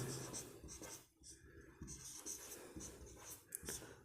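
A pen scratching across paper while a math problem is written out, close and soft, in short strokes with brief pauses between them.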